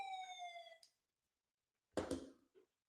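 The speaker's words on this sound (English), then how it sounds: "Let's sound that siren." A short electronic siren sound effect plays a steady high tone for under a second, then stops, followed by a brief whooshing burst after a moment of silence.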